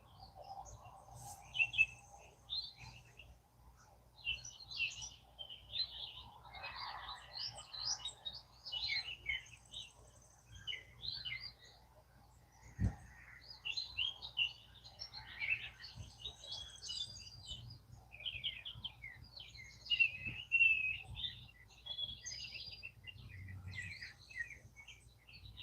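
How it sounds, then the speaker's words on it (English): Birds singing at dawn, a mix of faint chirps and tweets from several birds scattered through the whole stretch over a quiet low rumble, with no talk. "The music of the birds are it's just fantastic."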